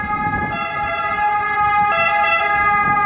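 An Italian ambulance siren sounds in a street of a small beach town, a loud, close, steady multi-tone wail with a shift partway through, over faint traffic rumble.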